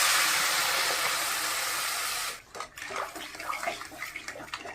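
Water is poured into a hot pan of frying flat bean and potato curry with mustard paste, turmeric and salt, giving a loud rushing hiss for about two seconds that cuts off into softer, uneven sizzling and bubbling.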